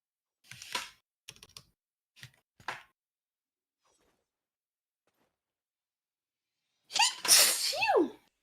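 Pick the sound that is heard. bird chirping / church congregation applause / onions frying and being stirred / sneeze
sneeze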